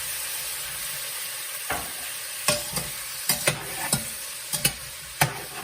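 Two large tomatoes tumble into a sizzling pan for braised trout, a steady frying hiss under a run of sharp stirring clatters and spatula knocks, close and fairly quiet, with no talk.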